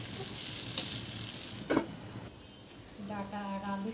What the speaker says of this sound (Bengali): এর মধ্যে দিয়ে দিলাম চিংড়ি মাছ, আবার একটু ভালো করে নাড়িয়ে চাড়িয়ে নিচ্ছি।